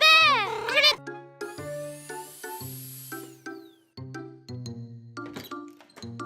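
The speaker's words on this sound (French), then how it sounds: "Maman et Caillou entendirent un miaulement discret." A cartoon cat in an animated children's show gives a short, high, wavering meow at the start, followed by a run of light, bell-like musical notes plinking one after another.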